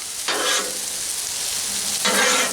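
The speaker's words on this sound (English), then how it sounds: "It's still gonna stay warm, it's gonna cook and saute." Beef stir fry on a Blackstone griddle gives a steady, close sizzle with two short bursts of stirring and scraping, heard alone without talk.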